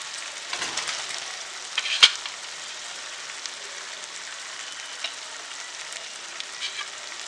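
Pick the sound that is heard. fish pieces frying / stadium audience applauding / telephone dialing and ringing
fish pieces frying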